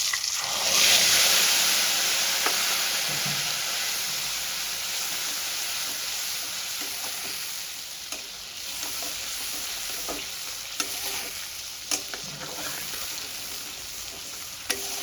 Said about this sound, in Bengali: এই তেলের মধ্যে আমি মেথি ফোড়ন দিয়ে দেবো। আমি মেথিটা ফোড়নে দিয়ে দিয়েছি। একটু মেথিটা ভাজা হয়ে গেছে, এবার আমি এই পেস্টটা দিয়ে দেবো।